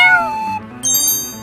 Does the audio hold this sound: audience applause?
no